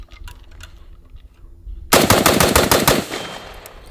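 A suppressed rifle fires one rapid burst after a quiet lead-in, a tight string of muffled, punchy reports lasting about a second, close and loud.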